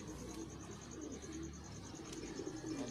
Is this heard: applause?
no